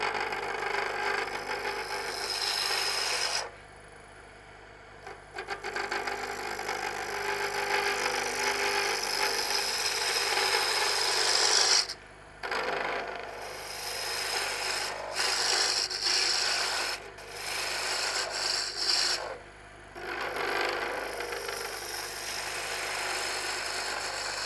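Wood lathe spinning a wooden spatula blank while a tool scrapes the handle down to its thinnest diameter, a steady, faint rasping hum broken by a few short pauses.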